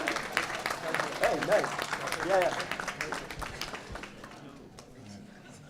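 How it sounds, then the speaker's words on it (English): An audience at a university pitch competition applauds the winners with a burst of crowd clapping that swells and then thins out. A few voices speak briefly over the applause. "let's get a round of applause for our winners"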